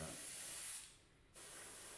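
An airbrush sprays paint for weathering and spray patterns on a model, a steady close hiss that drops away briefly in the middle and then resumes at full strength.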